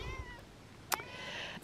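A garden cat meows once in a short, clear call, standing out against quiet outdoor background hum.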